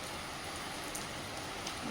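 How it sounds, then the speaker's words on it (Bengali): Heavy rain pouring steadily outside a home in the morning, a dense, even hiss of falling water with faint scattered drops, quiet and continuous with no talking. "বৃষ্টিটাও খুব জোরে চলে এলো আর আমিও বেরোতে পারছি না ঘরে বসেই আছি"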